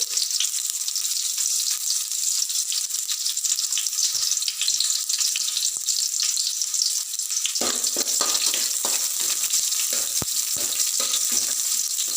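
Onions, mustard seeds and curry leaves fry in a pan for an okra huli sambar, a loud continuous sizzle and crackle that grows rougher and busier partway through as the pan is stirred, with no talking.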